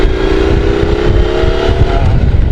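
A Triumph Tiger Sport 1050 motorcycle's engine runs loud and close, a steady throaty drone with a rising tone under strong low rumble, continuous and without talk.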